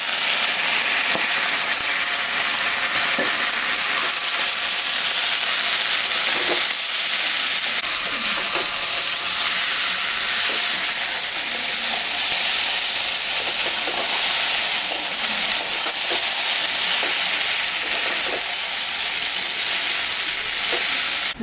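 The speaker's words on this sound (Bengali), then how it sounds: "এখন আমি চাউমিনটা দিই।" Chow mein noodles stir-frying with egg in a hot pan give a continuous loud sizzling hiss, close up, with scattered scrapes and taps of the spatula throughout and no talking.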